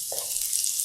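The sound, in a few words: steak sizzling as it is stirred in a hot pan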